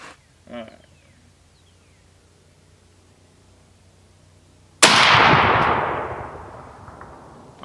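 A single loud rifle shot from a 7.62x39 fired outdoors at a GE dryer at about 110 yards, with a sharp crack and a long echoing decay. It comes after a quiet stretch, and a brief voice sounds near the start.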